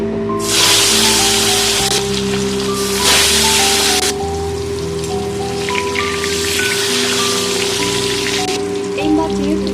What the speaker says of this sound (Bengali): তেল গরম হয়ে গেছে, একটা একটা করে মাছ আমি ভেজে নেব।